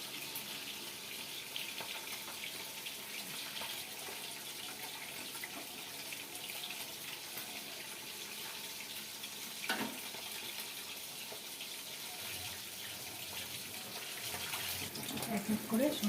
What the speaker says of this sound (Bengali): মাথাটাকে ভেজে নিচ্ছি।